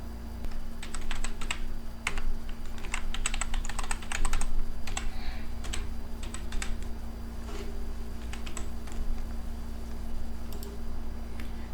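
Typing on a computer keyboard while logging into a Shopify store account, with steady bursts of clicking keystrokes and short pauses over a constant low electrical hum.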